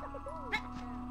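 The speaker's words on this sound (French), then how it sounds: "C'est le chien." A dog barks in the video game Supraland: Crash, one short bark and a soft whimpering yelp over a steady game tone and background music.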